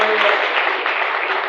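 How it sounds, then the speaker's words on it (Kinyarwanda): A church congregation keeps up a brief, dense wave of clapping in praise of God, loud and even from start to finish. "Ongera ukomere Imana amashyi."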